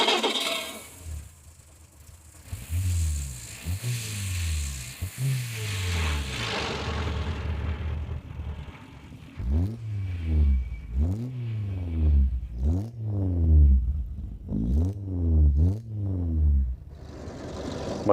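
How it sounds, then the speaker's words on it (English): A classic Fiat 125p car engine revs hard again and again, each rising whine repeated in a steady rhythm, loud and close, after an initial roaring pass. "Listen to how this big Fiat sounds"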